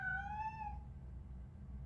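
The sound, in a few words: cat meowing in video game RoboCop: Rogue City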